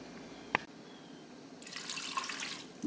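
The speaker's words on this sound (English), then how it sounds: "And to that, we're going to add 3 cups thereabouts of water." Water poured from a measuring cup into a soup pot of vegetarian potato soup, a steady close splashing pour rising after a brief clink, heard alone.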